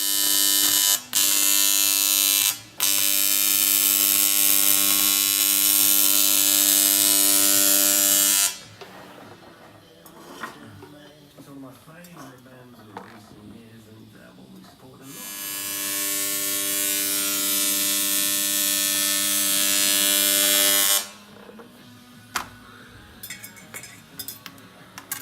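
An electric shaver buzzes loudly and steadily as it cuts off a man's beard in a motorsport workshop, running in two long sustained stretches separated by a quieter gap with handling noises and clinks.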